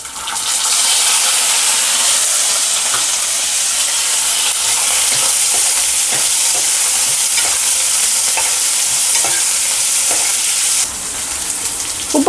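Dried red chillies and onion frying in hot oil for brinjal rice, a loud steady sizzle throughout with occasional stirring scrapes, easing slightly near the end.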